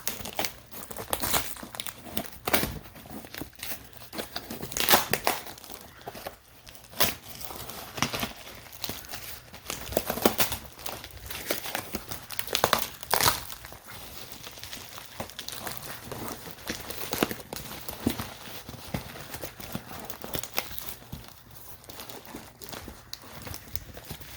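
Close, crisp crinkling and rustling of packaging handled slowly in an ASMR video game store roleplay, with irregular soft crackles and taps running continuously throughout.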